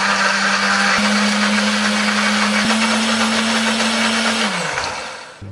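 A blender motor whirs steadily and loudly, grinding spices with a rough, gritty texture, then winds down and stops near the end.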